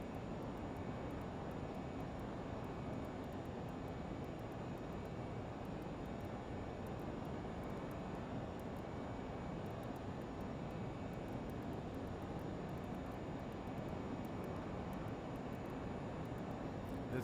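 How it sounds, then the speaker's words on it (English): A simulated Learjet 35 climbs out of Jackson Hole in a flight simulator, its jet engines giving a steady, unbroken roar at an even level throughout, with no voices. "This plane climbs like a rocket."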